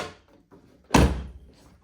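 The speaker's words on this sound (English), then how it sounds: "And roll the window, close the door," A single solid thunk as the door of a 1969 Datsun 2000 Roadster swings shut, a close, loud slam with a brief low rumble trailing off, preceded by faint handling noises.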